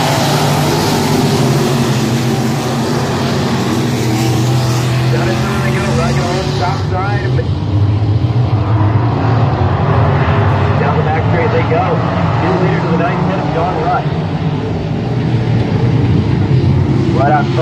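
Super stock race cars roar off to start a heat at a dirt speedway in Wayne County, a loud continuous pack of engines running under an announcer's commentary.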